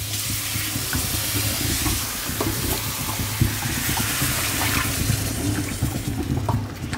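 Cream is stirred into a hot pan of paprika-seasoned food, giving a steady close sizzle and frying hiss with soft scraping stir strokes throughout.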